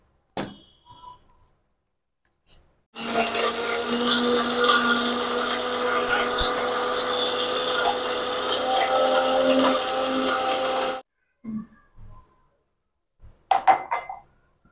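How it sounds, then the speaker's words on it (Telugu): A mixer grinder blending papaya and dates with cool water into juice, a loud steady whirring drone of about eight seconds that starts and stops abruptly, with quiet handling clatter before and after. "మిక్సీకి వేసి చూపిస్తానండి."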